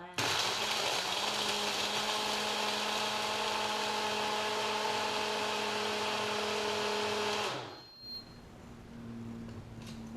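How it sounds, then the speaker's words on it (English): A Ninja blender whirs loudly and steadily for about seven seconds, blending a coffee drink in a NutriNinja cup, then winds down abruptly into near quiet. "put the blade right onto the NutriNinja blender cup and blend"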